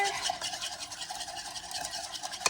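A spoon stirs pepper and a little salt through a seasoning mixture, giving a soft continuous scraping and swishing close by with a quiet rhythmic texture.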